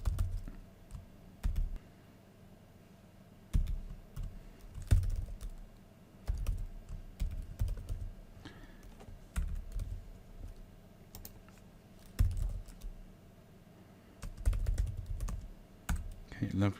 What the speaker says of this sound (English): we just type in the basic details here